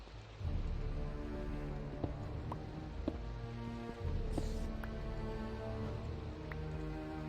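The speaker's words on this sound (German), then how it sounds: "Und es regnet." Rain patters steadily in the Minecraft video game, a soft continuous hiss with occasional small drip-like ticks, faint and even throughout.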